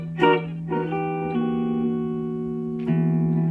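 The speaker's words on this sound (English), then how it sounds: "You see that when I play that dominant 9th sharp 11th" Guitar strumming a dominant 9th sharp 11th chord, a couple of quick strums, then a long ringing chord and a fresh strike near the end, clean and moderately quiet.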